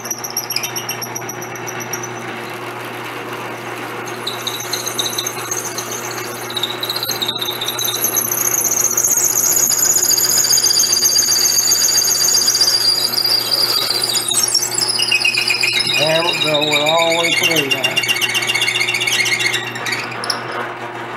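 A pen blank is drilled on a lathe in a workshop, giving a loud sustained whine with shrill squealing overtones that rise and shift as the bit cuts, then a wavering screech near the end.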